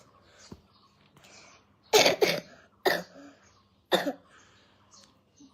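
A person coughs in a few sharp, close bursts, some coming in quick pairs, with quiet gaps and faint breathing between them.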